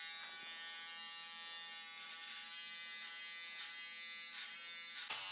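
A Philips OneBlade Pro trims a beard at the 10 millimetre setting, giving a steady close electric buzz with brief rasping surges as the blade passes through the hair. Nobody speaks.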